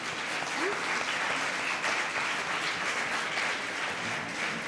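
A large indoor audience claps loudly and steadily, a dense even wash of hand claps that holds without a break for several seconds, with faint voices mixed in.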